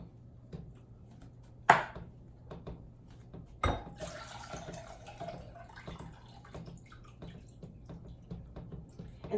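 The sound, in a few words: pineapple juice being poured from cans into a bowl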